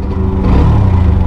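A Hero Xtreme 125R motorcycle pulling away in first gear, its engine droning steadily and loudly up close for a brief moment, with a slight rise in pitch.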